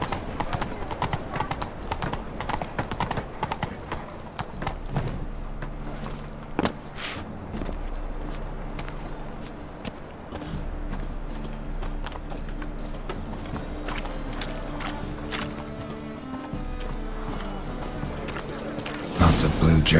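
Hoofbeats of Roach, Geralt's horse in The Witcher 3, pound steadily in a brisk rhythm over a low game soundscape, with occasional voices and a louder burst near the end.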